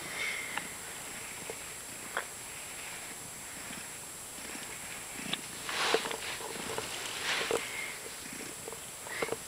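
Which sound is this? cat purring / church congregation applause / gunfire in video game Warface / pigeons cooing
cat purring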